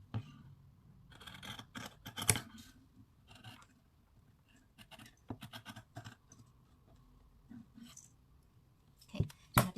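Scissors snip through T-shirt fabric while a face mask is being made, giving a run of close, irregular crisp cuts and rustles, with a louder cluster near the start and another at the end.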